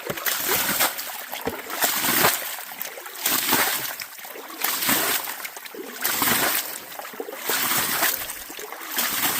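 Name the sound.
water splashing while washing creek bedrock down with a pan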